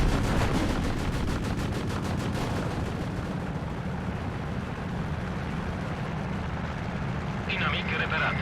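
Rapid gunfire in Steel Division 2 during the Iasi campaign with Romanian and German forces: a fast machine-gun rattle in the first two seconds, then dense rumbling battle noise with a voice breaking in near the end.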